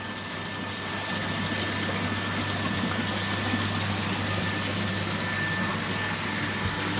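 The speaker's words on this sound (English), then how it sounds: "Again open the collecting tank discharge valve and adjust the flow regulator valve for medium discharge." Water runs through a lab flow channel with the collecting tank discharge valve open and the flow regulator set to medium discharge, a steady pump hum and rushing flow continuing loudly throughout, with no talking.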